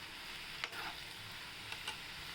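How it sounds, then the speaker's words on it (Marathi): Cowpea leaf greens sizzle steadily in a pan over low gas, with a couple of soft stirring scrapes breaking through the continuous close frying hiss. "आता आपण त्याला दोन मिनटं अजून छान शिजून घेऊया स्लो गॅसवर"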